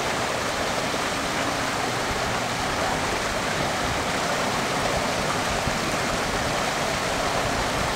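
Constant rushing of water pouring through a weir orifice, a dense, even hiss like a small waterfall, loud and unbroken throughout with no voices.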